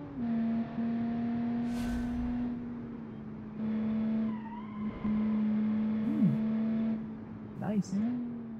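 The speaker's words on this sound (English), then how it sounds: "Oh, this V6 actually sounds nice." A V6 engine in a 1970 Italian car hums steadily from inside the cabin, its pitch rising and dropping through gear changes, with a brief voice breaking in near the end.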